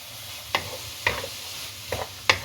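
Carrot, capsicum and chopped egg are stir-fried in a pan for egg fried rice, a spatula scraping and tossing in four distinct strokes over a soft, steady sizzle, close and fairly loud.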